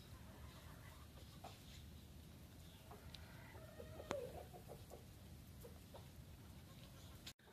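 A few soft chicken clucks sound faintly at a distance over a steady low background hum.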